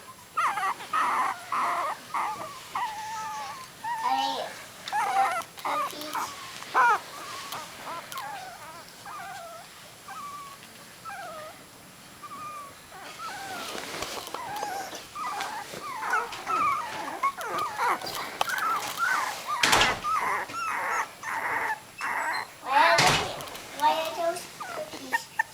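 Three-week-old puppies squawking for their mother, a busy run of close, high whimpers and yips, with people talking and a few louder bumps in between.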